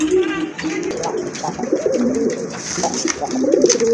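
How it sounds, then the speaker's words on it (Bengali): White Indian Bombay pigeons with rose crests cooing close by, a steady stream of low throaty coos and warbles at a loft, with faint background sounds. "মাশাআল্লাহ দেখেন আরেক জোড়া কবুতর, সাদা বোম্বাই কবুতর, ইন্ডিয়ান বোম্বাই কবুতর"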